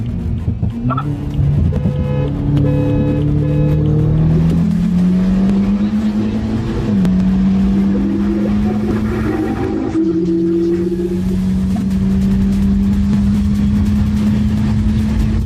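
A tuned BMW F30 328 with a stage 3 N20 engine accelerates hard, its loud engine note climbing steadily through gear shifts with short dips, sustained and close, no talking.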